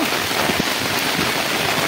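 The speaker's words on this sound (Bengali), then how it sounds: "বিশাল মুষলধারে বৃষ্টি হচ্ছে।" Heavy rain pours down in a dense, constant hiss, loud and unbroken, with no voices.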